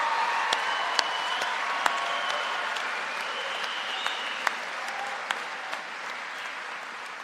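At a university commencement ceremony, a crowd gives sustained applause for families and supporters: a dense, steady wash of clapping with a few sharp nearby claps standing out.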